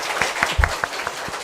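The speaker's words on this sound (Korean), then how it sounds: "우리 한번 박수 다시 부탁드립니다" A church congregation at a Sunday worship service applauds, with scattered sharper claps standing out over a soft, roomy wash of hands and a few low thumps, short and fairly close.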